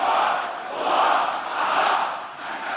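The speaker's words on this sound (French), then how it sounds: "La foule est galvanisée." A fired-up crowd at a political rally shouts in rolling, surging waves, a dense wall of many voices swelling and dipping in volume.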